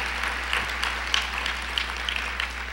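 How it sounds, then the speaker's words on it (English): An audience applauds at an installation ceremony for officers and directors, with steady, dense clapping that carries on evenly throughout, with no speech over it. "One more time, give Avis a round of applause"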